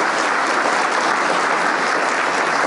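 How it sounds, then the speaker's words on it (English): Dense, loud audience applause for honorees at a women of distinction awards event, a continuous full wash of clapping with no talk over it. "Can I have another round of applause for our honorees?"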